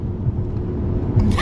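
A car driving along the road, heard from inside as a steady low rumble of engine and tyres, with a brief brighter rise near the end.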